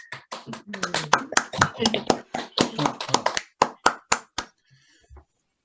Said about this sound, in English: Can we give Neil another clap,